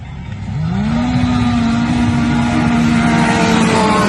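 A turbocharged Polaris RZR Pro R and a big-turbo Can-Am X3 launch in a drag race, engines building from idle into a loud, sustained high-revving roar that climbs steadily in pitch and holds at full throttle, close by.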